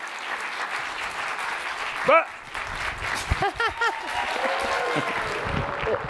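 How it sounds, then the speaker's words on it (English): Audience applause greets chef Pati Jinich at a Hispanic Heritage Month event, moderate clapping running under excited voices and shouted cheers from the host and crowd. "Give a big round of applause to Pati Jinich"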